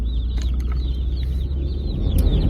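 Cornish Cross chicks peep in a steady high chirping chorus over a constant low engine-like rumble, heard from inside a vehicle while pulling in to pick them up.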